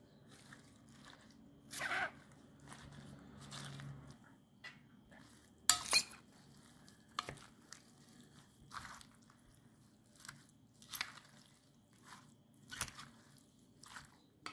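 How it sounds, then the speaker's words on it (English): A spoon stirs mushrooms through a spicy-sweet Korean-style sauce, giving soft wet squishes and occasional clinks against the bowl in irregular bursts, close and fairly quiet. "If you want, you can mix it with the spoon or with your hands."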